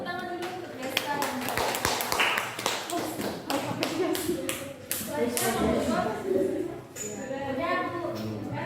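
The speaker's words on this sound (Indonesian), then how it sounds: "Tepuk tangan dulu untuk Desta" Classroom applause after a student presentation, a burst of claps and taps with scattered thumps, mixed with talking voices throughout.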